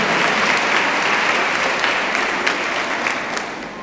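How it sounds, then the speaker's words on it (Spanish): Crowd at a community gathering in Guatemala applauds strongly, a thick, even wash of clapping that eases slightly toward the end, with no talk. "nos invitan un fuerte aplauso"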